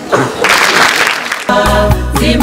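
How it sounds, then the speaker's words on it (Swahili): Schoolchildren give a short burst of applause during a fire-safety lesson from the Mbeya fire brigade. The loud, dense clapping fades after about a second and a half into a sustained tonal sound. "Makofi kwenu."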